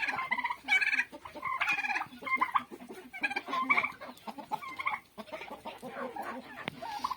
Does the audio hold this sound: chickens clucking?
yes